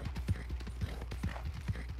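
Horse hooves clip-clop at a steady walking rhythm in a western video game, loud and close over a low rumbling background.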